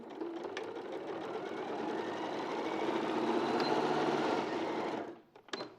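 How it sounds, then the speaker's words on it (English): A sewing machine runs steadily for about five seconds, stitching the back of a fabric leg closed, with a dense whirring hum at a fairly constant loud level before it stops near the end. "So I've stitched the back of that leg closed."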